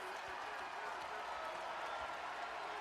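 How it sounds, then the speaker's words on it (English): Basketball arena crowd during a 2020 North Carolina vs Virginia college game, a broad, distant roar and cheer rising steadily with no individual voices standing out. "Crowd coming to life."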